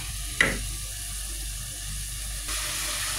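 Chicken breast browns in cooking oil on a stove, giving a steady broad sizzle and hiss with a brief sharper crackle near the start and a small surge later, no talk over it.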